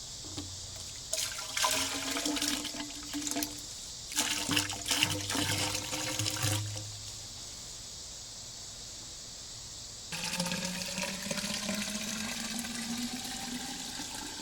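Water is poured into a barrel being built into a small electric boat, about 2.5 to 3 gallons in all. It comes in several long, steady splashing pours with a rising filling tone and short pauses between them.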